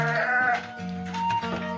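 Sheep bleat on a goat and sheep fattening farm in Bekasi, a few overlapping wavering calls close by that fill the short stretch with no talk.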